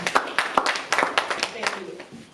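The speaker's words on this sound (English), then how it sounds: "give a round of applause for Karen Bigby" Audience at a women's mental health awareness event applauding a speaker, with a quick run of sharp claps that fades over a couple of seconds, a voice faintly audible beneath.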